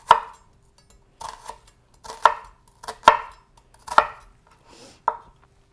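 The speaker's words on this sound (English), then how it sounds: "first I'm gonna cut the onion horizontally. And then I'm gonna go ahead and cut down vertically." A knife chopping an onion on a cutting board, six or seven sharp, crisp knocks at irregular intervals with near silence between them, close and clear, no voices.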